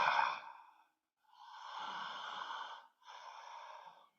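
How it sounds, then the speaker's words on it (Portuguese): Slow breaths with air rasping in the throat, three long hoarse exhalations separated by short silences, close and fairly quiet. "O ar raspa aqui na minha garganta"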